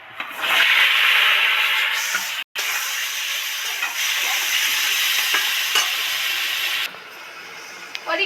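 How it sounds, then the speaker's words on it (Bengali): Potatoes, jackfruit seeds and tomato dropped into hot oil set off a loud, close, continuous sizzle and hiss with occasional stirring scrapes, the flame turned low, no talk. "আলু আর যে কাঁঠালের দানা আর টমেটোটা এর মধ্যে ছেড়ে দিচ্ছি"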